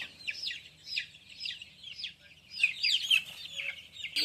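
Chickens clucking repeatedly in short bursts, fairly close, with overlapping calls growing busier toward the end; no voices.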